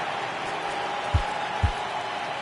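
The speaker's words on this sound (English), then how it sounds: "Crowd gets up for the 3-2." Steady crowd roar from a stadium in the baseball video game MLB The Show 19, swelling on a full count, with two dull low thumps partway through.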